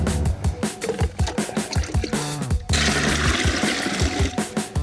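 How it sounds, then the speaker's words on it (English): Water pours steadily into a bucket for mixing concrete, a loud continuous splashing and gurgling fill sounding close by, with no talk. "I'm gonna pour my water in"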